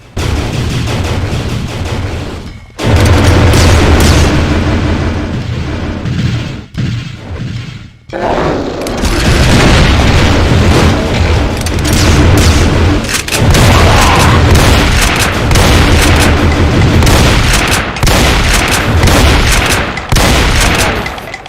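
Repeated loud explosions and heavy gunfire in a Doom mod, dense overlapping booms and blasts that continue almost nonstop, with only brief lulls.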